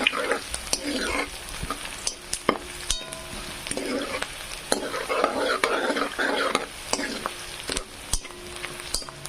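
Chopped onion frying in a pan for vegetable pulao, a steady close sizzle broken by repeated scraping and clinking of a spatula stirring against the metal.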